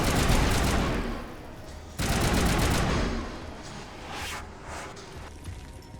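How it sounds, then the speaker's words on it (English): Heavy sustained gunfire during a Mass Effect boss fight as shots hit glowing nodes: two loud, dense bursts of automatic fire, then scattered fainter shots trailing off. "What we gotta do is we gotta run around and shoot these nodes."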